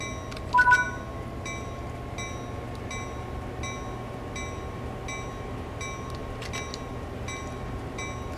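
Freight locomotive in Train Sim World 5 on Sand Patch Grade pulling away after a throttle increase, a steady low engine drone with faint repeating rail clicks and a brief tonal chirp near the start.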